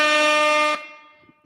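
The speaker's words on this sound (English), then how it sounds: "Give Clarissa the air horns" A loud air horn blast holds a steady, bright, harmonic-rich tone for about three quarters of a second, then cuts off and leaves a fading ring with faint noises after it.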